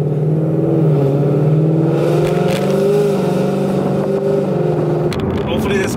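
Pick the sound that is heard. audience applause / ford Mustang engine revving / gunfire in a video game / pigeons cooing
ford Mustang engine revving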